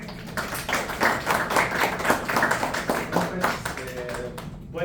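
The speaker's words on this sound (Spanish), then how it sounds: "Ahora les pido un fuerte aplauso a Héctor" A small audience claps for the speaker Héctor at a contact-center AI presentation, a brisk burst of dense hand claps close by that tapers off near the end.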